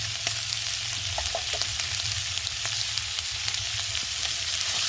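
Spices with turmeric, salt and ginger paste sautéing for dal in a pan, a steady dense sizzle and crackle with a few small clinks of the stirring spoon, close and even throughout, no speech.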